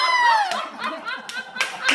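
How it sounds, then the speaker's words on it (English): Guests at home clap in scattered bursts amid laughter and chuckles, with voices talking and exclaiming over the clapping, close and uneven. "we're getting applause"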